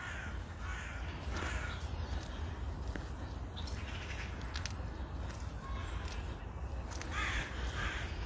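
A big crow caws several times in a wooded park in autumn, with other birds such as magpies chattering around it, over a steady outdoor rush of wind and ambient noise.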